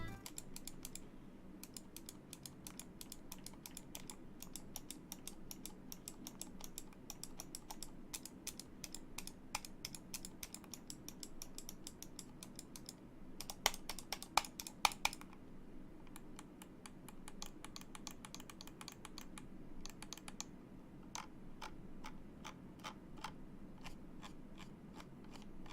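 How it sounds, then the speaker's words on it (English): Rapid, crisp clicks from the buttons of a Razer Lancehead Tournament Edition gaming mouse, dense irregular bursts of sharp ticks close to the microphone, with a faint steady hum beneath and no talking. "let's kill it for a second so that we can hear the sound the buttons make"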